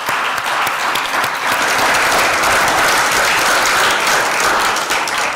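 Loud, dense audience applause at the Maritime SheEO Conference 2023, a packed room of people clapping continuously and evenly for several seconds.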